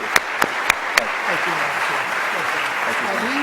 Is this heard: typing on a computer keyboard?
no